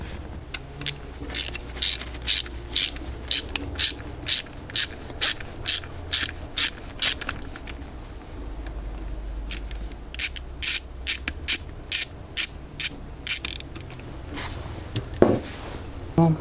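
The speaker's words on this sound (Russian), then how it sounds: "я возвожу этот натяжитель и откручиваю болтик" A bolt is undone on a Volkswagen Golf door window regulator, producing close, rapid clicking bursts repeated in a steady series with short pauses between them. A faint voice can be heard at times.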